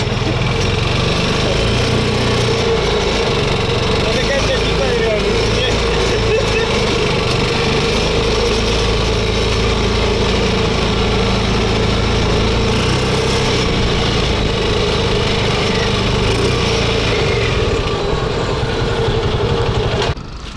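A small kids' buggy engine runs after repair, holding a loud, steady idle with a buzzing vibration for about twenty seconds before cutting out at the very end.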